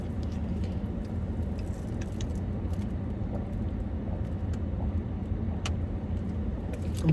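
A car drives along with a steady low engine and road rumble filling the cabin, constant and even throughout, with a few faint clicks and rattles from inside and no talking.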